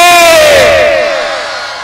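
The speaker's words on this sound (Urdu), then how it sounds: "ایک بار لگائے ایسا نعرہ آپ پیچھے سے آگے تک" A large crowd at an all-India devotional poetry gathering in Walidpura, Mau, shouts a religious slogan together: one loud, sustained collective cry that slowly fades over about two seconds.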